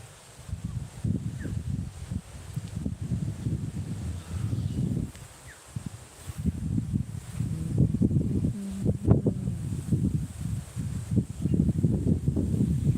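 Wind rushes and rustles through a rice field in gusts, swelling and easing, with faint distant sounds now and then.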